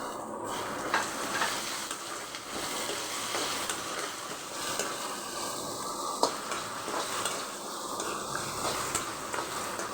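Green chillies, tamarind and curry leaves fry in a pan for a coconut chana dal chutney, giving a steady soft sizzle with faint stirring scrapes throughout.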